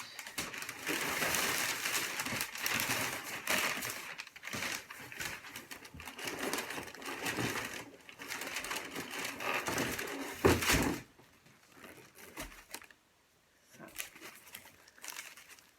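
Packing paper is pulled out of a box holding a plant, crinkling and rustling loudly and nearly continuously up close, then easing into softer scattered rustles near the end.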